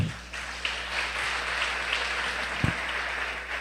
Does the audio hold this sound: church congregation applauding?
yes